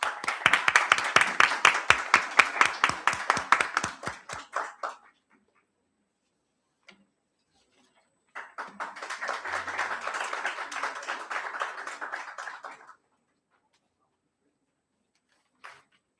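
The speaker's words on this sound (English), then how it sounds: "A huge round of applause." Applause at a national seminar felicitation ceremony begins as dense clapping that thins into scattered claps and dies away, then a second, softer round swells and fades, with silence between.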